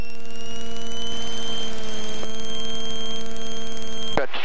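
A Piper Archer light aircraft's engine runs at full power for takeoff, a loud, steady droning hum with sustained tones throughout, ending in a sudden brief burst of noise.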